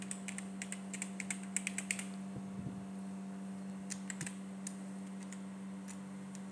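Computer keyboard typing, with short bursts of clicking keystrokes over a steady electrical hum and fan noise, fairly quiet and close, with no talking.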